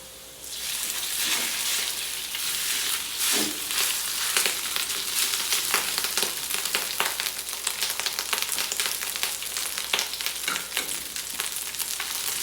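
Rice is stir-fried with golden-browned garlic in a pan for garlic fried rice, a loud continuous sizzle broken by repeated scraping and tossing strokes of the spatula.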